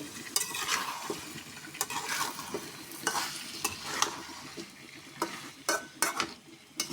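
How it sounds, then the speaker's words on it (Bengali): Potatoes are stir-fried in a pan with a low, continuous sizzle, while a spatula scrapes and knocks against the metal in irregular, repeated strokes. "আমি আলুটা ভালো করে কষিয়ে নিব।"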